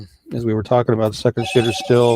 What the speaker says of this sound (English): sorry about my phone, still unidentified.